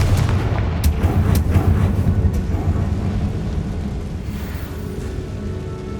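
A Confringo explosion spell cast in Hogwarts Legacy bursts into a loud, dense blast with sharp cracks early on, then rumbles on for several seconds alone.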